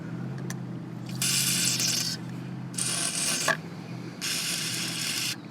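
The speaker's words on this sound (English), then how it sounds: "let's shake up the can of WD-40" A can of WD-40 hisses out three sustained spray bursts, each lasting about a second, onto a rusty Honda Odyssey frame during a trailer hitch install, with a few faint clicks of handling beforehand.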